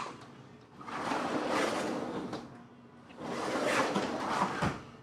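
A repaired sliding door rolls along its track twice, each long rumbling slide swelling and fading, the second ending in a sharp click as the door locks, fairly quiet and close.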